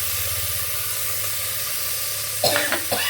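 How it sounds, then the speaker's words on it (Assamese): Onions and tomatoes fry in a pan with a steady, close sizzle, and a few louder stirring scrapes and spatters arrive near the end; no one speaks. "ধুনীয়াকৈ অকণমান সময় ভাজি ল'ম। এতিয়া ইয়াতে দি দিম মই বিলাহী।"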